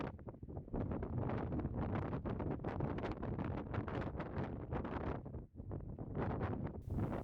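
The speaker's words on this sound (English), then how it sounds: "Finally the morning came, and with it the wind." Strong morning wind gusting across a tent in the Ardgour hills, a loud continuous roar and buffeting with brief lulls, close to the microphone.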